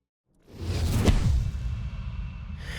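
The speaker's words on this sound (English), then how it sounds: "add a cinematic whoosh to elevate the scene" Cinematic whoosh sound effect for a stop motion fight finishing move, a single swelling swoosh that rises quickly, peaks sharply and trails off into a low rumble, loud and alone.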